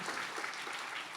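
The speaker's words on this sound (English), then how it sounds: "So maybe just a little round of applause for that accomplishment" Brief, faint applause from a small audience at a senior piano recital, a soft continuous patter of clapping lasting about a second with no voices.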